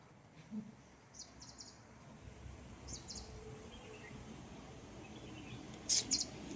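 A few short, high chirps from birds at a distance, scattered over a quiet outdoor hum, with a sharper burst of calls near the end.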